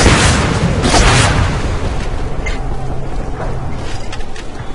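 A harvester blowing up in the video game Renegade X, a loud booming explosion that rolls into a long rumbling decay with scattered debris crackles.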